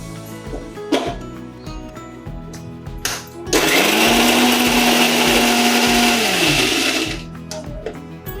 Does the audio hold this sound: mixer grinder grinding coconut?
yes